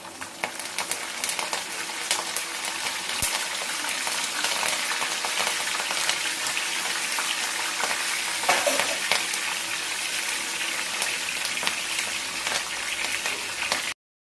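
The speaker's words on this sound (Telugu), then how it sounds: "తాలింపులు కూడా వేగిపోతున్నాయి కదా, దీంట్లోకి కరివేపాకు కూడా యాడ్ చేస్తున్నాను" Tempering spices and curry leaves fry in hot oil for a bitter gourd karam, giving a steady, close, continuous sizzle and crackle that runs unbroken for the whole stretch, with no talking.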